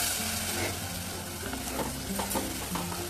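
A thick tomato masala for brinjal curry sizzles steadily in a pan, with soft scraping stirs of a spoon breaking through at irregular moments, close and continuous with no talking.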